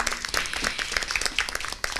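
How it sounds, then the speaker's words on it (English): A crowd at a women's leadership council meeting applauds a college, producing a dense, lively patter of many hands with some louder individual claps, moderately loud and continuous throughout. "Let's give them a huge round of applause."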